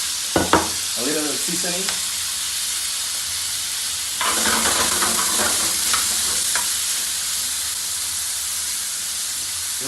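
Onion and yellow ají hit a hot pan for lomo saltado, a steady sizzling hiss with stirring scrapes; a brief voice opens, then the frying swells louder midway and holds as a broad, close crackle.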